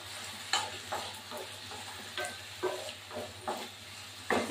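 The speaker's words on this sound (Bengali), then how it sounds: "আলুটা ভাজা বসাবো" Potatoes frying in a pan with a soft, continuous sizzle and repeated utensil scrapes and taps as they are stirred, with a low hum underneath.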